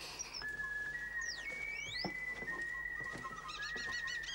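Strix, the owl-man, blows a luring whistle: a sustained tone with sliding upward and downward swoops, then a rapid warbling trill, heard fairly close over a low background hum.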